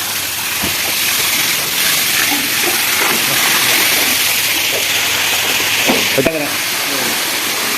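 During well-cleaning work, a steady rushing hiss of water is pumped into a well. Scattered knocks and faint voices can be heard in the background.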